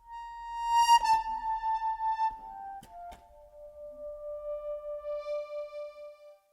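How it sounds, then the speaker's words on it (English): An accordion plays a plaintive melodic line in a studio-recorded song, holding sustained, harmonically rich notes that slide between pitches, with a brief pause midway before the phrase continues softly. "There's plenty of moments with the accordion throughout the tune."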